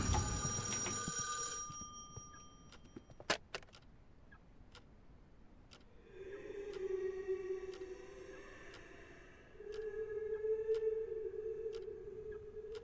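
A phone rings in the horror video game Paroxysm, two long sustained electronic ringing tones a few seconds apart, moderately loud against near silence, after some earlier brief clicks and a sharp tick.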